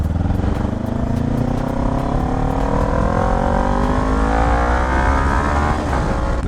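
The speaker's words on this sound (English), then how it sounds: "The more I listen to this exhaust, it's like I get used to hearing that sound." A Kawasaki Ninja 400 motorcycle exhaust revs up hard and close, its rising, buzzy engine note climbing steadily through the gears, loud and rough throughout with no talking.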